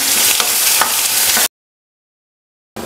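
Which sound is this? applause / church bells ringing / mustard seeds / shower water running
mustard seeds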